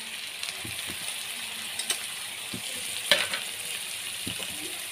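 A soaked spice paste of chili powder, cumin powder, turmeric and salt fries in a pan with a constant close sizzle. Occasional sharp metallic clinks of stirring cut through it, and no voice is heard.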